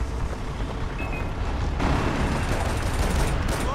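A dense, rumbling explosion with crackling debris in the video game Far Cry 4 fills the clip, loud and sustained, swelling partway through.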